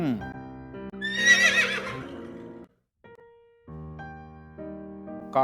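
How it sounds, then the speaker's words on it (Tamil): A horse gives a single loud, shrill whinny that quavers and trails off, heard close over steady background music with a brief silence afterward. "கனைக்கும்."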